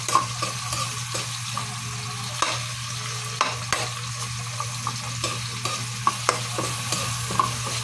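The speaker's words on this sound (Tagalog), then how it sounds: "Nagigisa na ako ng sibuyas tapos bawang." Onion and garlic sautéing in a pan for chicken feet adobo, with a steady loud sizzle, a low hum and irregular clinks and scrapes of stirring throughout.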